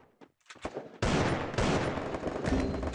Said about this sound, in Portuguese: Dei dois tiros ali.